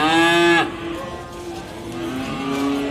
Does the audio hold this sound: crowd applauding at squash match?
no